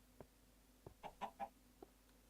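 A cheeky chicken in a Minecraft-style survival game clucks in a short burst of three or four soft calls, with a couple of faint clicks before and after, quiet and fairly close with no talk.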